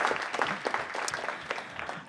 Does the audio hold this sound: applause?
yes